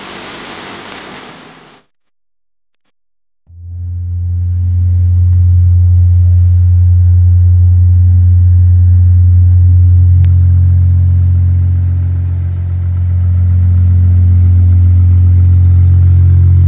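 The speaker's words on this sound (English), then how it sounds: "So as you guys see, the car started and it is out of the garage finally." A car with a forged N55 engine fires up after a short silence, then settles into a loud, steady, deep engine drone as it pulls out of a garage, with a small rise in revs partway through.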